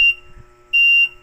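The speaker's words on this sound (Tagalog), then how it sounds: "Tapos yung beeping niya mabilis, no?" Earthquake alarm emitting loud, steady high-pitched electronic beeps: one tone at the start and a second sustained tone a moment later, close and clear with no talking.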